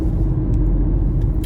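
Steady low road rumble fills the cabin of a moving car, a constant engine and tire drone with no talking over it.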